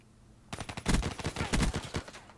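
Rapid automatic gunfire from the Black Ops 3 video game in multiplayer, starting abruptly after brief quiet and continuing in loud, clustered bursts of shots.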